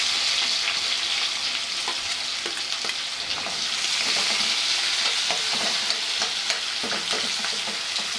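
Onion frying and being stirred in hot oil with bay leaves, cloves, peppercorns, cinnamon and cardamom for vegetable dalcha, a steady close sizzle with scraping stir sounds throughout, no voices.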